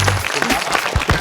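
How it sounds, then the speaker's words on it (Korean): Studio audience at a Korean student contest show clapping briefly, a short burst of close, fairly loud hand claps lasting about a second. "박수 한번 주세요."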